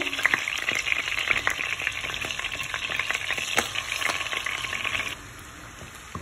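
Ginger and garlic frying in a pan for a chicken capsicum curry: a dense, steady sizzle with stirring clicks and scrapes that runs for about five seconds, then drops to a quieter hiss.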